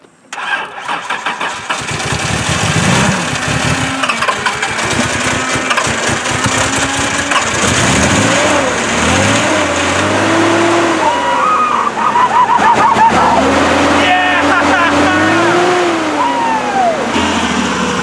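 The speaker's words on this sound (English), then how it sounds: "We are putting some fuel in it and we're about to start it, so let's see if it works. First cold start." A Nissan 300ZX engine cranks and fires on a cold start after sitting five months, catching into a loud, rough idle with revs rising and falling, close by and steady for the rest.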